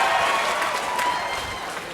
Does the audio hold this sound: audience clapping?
yes